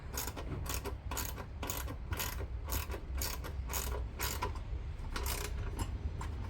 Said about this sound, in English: Backside with a wrench, and just tighten that up.